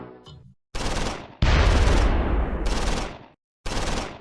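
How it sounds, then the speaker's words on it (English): Browning medium machine gun in the WWII game Close Combat 4, Battle of the Bulge, fires loud sustained bursts: a short burst, then a long rattling stream, a pause and another burst, with a brief softer sound at the start. "The Browning medium machine gun opens up at long range."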